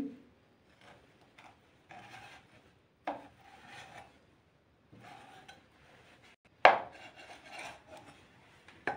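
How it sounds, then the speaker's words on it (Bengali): A knife cuts fish into pieces for fish fingers on a wooden board, giving short, close bursts of chopping and scraping at irregular intervals with quiet gaps between them and one sharper knock. "ঝটপট মাছটাকে কেটে নেই"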